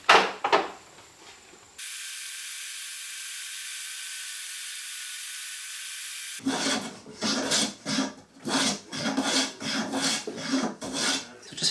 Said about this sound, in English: So just finished planing this